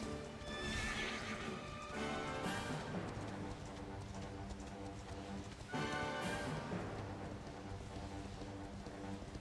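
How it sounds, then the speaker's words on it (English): A horse ridden in the video game Dragon Quest XI snorts and whinnies twice, each call followed by a steady clip-clop of hooves, loud and close throughout. "Let me jump on a horse here."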